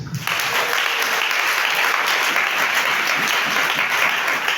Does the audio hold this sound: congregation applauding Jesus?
yes